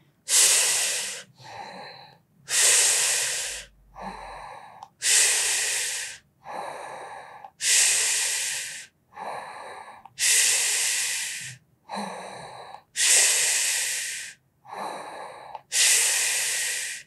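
Steady, deliberate breathing during a Pilates abdominal workout, with about eight long, loud breath cycles alternating forceful hissing exhales and shorter inhales in a regular rhythm, close to the microphone and without talk.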